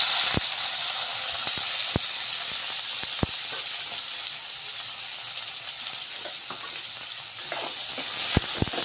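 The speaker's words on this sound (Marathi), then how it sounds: "त्याला आता छान तांबूस होईपर्यंत कांदा होऊ द्यायचा." Chopped onions and green chillies fry in a pan with a steady close sizzle and hiss, with occasional clicks and taps of stirring throughout.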